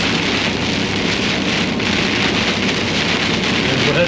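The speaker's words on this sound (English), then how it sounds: "It's supposed to be storming like this for the next 4 to 6 hours." Heavy storm rain hammers steadily on a car driving through upstate New York near Syracuse, a loud, dense, unbroken roar of drops on the roof and windshield.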